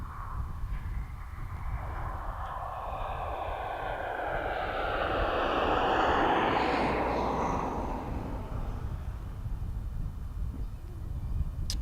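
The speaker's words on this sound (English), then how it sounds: "RVL Aviation Cessna 406 just turning onto finals, inbound from Guernsey" An RVL Aviation Cessna 406 turbine twin on final approach, inbound from Guernsey, drones past at moderate distance, its engine tone swelling toward the middle and then fading, with light wind noise underneath.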